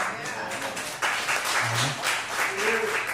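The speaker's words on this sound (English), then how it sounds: "I didn't feel like that was a real applause" An audience applauds after a live song, a soft steady clapping wash at moderate distance, with people talking and voices running over it.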